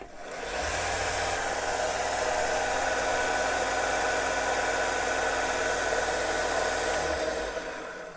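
A small belt and disc sander for tubes, wood and metal switches on and runs, a steady loud whirring motor hum with broadband rushing noise that holds evenly for several seconds before winding down.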